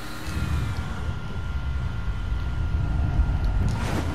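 A car engine in the Mafia 3 video game, with a smooth, almost electric tone: a steady low hum that runs unbroken throughout, with no voices.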